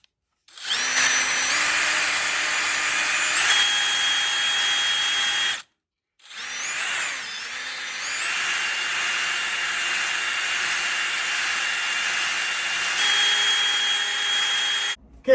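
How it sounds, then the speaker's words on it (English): Power tool grinding rust out of the cylinders of a seized 1976 350 engine, a loud continuous whine with shifting pitch, one brief stop midway, running steadily alone. "I got a little bit of rust removal to do"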